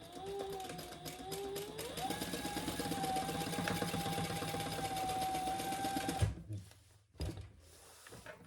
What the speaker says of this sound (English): fold that over and top stitch on the side panel.